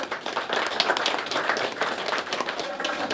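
An audience at a local community gathering breaks into warm, steady applause, a dense patter of many hands clapping at moderate distance for a few seconds.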